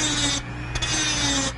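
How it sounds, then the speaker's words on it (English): Short burst of rasping, scraping saw strokes cutting a piece off an Apple PowerBook laptop casing, close and fairly loud, with a brief pause midway. "the idea is we're just sawing off this piece here"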